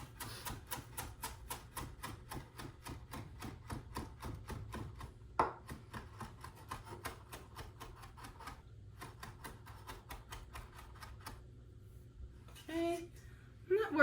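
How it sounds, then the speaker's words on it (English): A knife chops herb stems on a cutting board for a Shirazi salad, a fast, steady run of sharp close taps that pauses briefly now and then and trails off near the end. "I always chop the stems in because it carries with it a lot of flavor"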